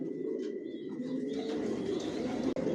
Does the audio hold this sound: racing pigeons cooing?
yes